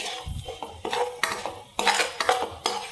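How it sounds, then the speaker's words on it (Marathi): A metal spoon clinks and scrapes against a pan as urad dal and spices are stirred in hot oil for a cabbage dish, with a series of close, irregular scraping strokes and no talking. "हे सगळं घालून व्यवस्थित पस परतून घ्यायचं आहे तेलावर छान या पद्धतीने"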